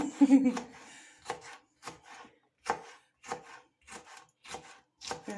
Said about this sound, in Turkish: Hala doğruyoruz, doğruyoruz, daha doğruyoruz.